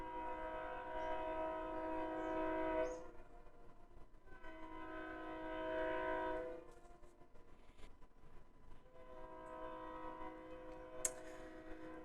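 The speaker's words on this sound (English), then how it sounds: "there goes a train" A passing train rumbles continuously with a low roar and sounds a long horn in three separate blasts, steady and moderately distant, with metallic clicking from the wagons.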